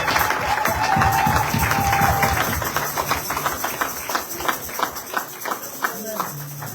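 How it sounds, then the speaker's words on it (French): A church congregation at a Sunday service clapping loudly, with sustained applause and mixed voices that settle into a rhythmic beat of claps, with people speaking and calling out over it. "Acclamons bien fort bien aimé"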